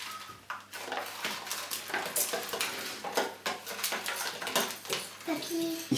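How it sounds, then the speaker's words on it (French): Leftover birdseed being stirred into melted margarine in a dish for homemade bird food, giving a steady run of scraping and clinking utensil-on-dish sounds at moderate level with no speech. "Histoire de bien tout mélanger."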